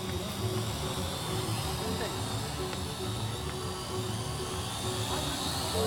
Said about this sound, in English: Papi, mira un drone.